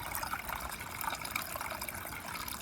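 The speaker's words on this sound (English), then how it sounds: "And a water feature we got now." A garden water feature trickles in a steady, soft, continuous stream, heard faintly and alone without any talking.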